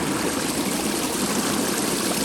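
Water flows steadily beside ice in freezing cold of minus ten degrees, a close, constant trickling rush with no voices.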